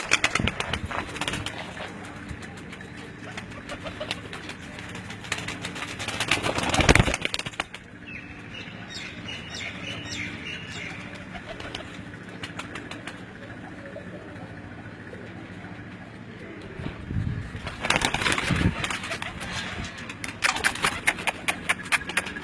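Lal Pari breed pigeons at a home loft coo softly through a quieter stretch, framed by louder bursts of wing flapping and shuffling near the start and end.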